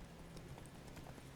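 Roach, Geralt's horse in The Witcher 3 video game, clip-clops along at a steady rhythmic gait, hooves striking continuously over a low ambient game background.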